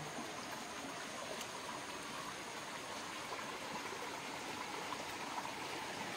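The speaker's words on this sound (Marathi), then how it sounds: "असं लाल लाल गढूळ पाणी येतं बघा" Muddy red water runs down from the hills beside rice fields, a steady faint rushing flow with no talking.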